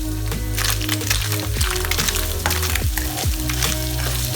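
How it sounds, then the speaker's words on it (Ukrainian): Loud, dense sizzling and crackling of potatoes frying in a hot pan, with occasional scraping clatter from stirring, close up and continuous. "Висипаємо на пательню картоплю"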